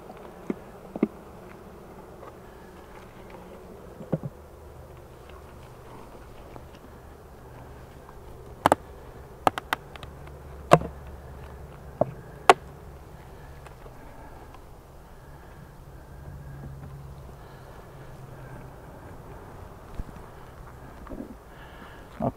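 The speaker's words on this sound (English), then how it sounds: "Not quite as many bees here." Honey bees buzzing around an opened hive frame during queen rearing, a soft continuous hum with a few sharp clicks and knocks from handling the frames, and no one talking.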